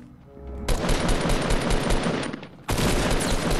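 Shotgun gunfire in the Fortnite Battle Royale video game: two loud, close, sustained bursts of blasts, the first lasting about two seconds and the second starting abruptly after a brief dip, with a quieter game ambience before them.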